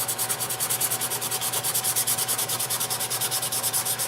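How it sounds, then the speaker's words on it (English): Rhythmic back-and-forth scratching of sandpaper on wood, steady strokes about several per second, close and continuous with no talking. "we'll start sanding on the rest of it"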